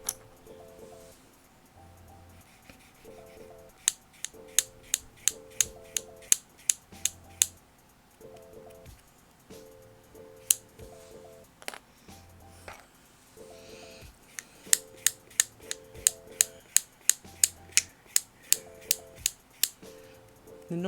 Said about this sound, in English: The noise you hear is me drawing lines down the bobbin.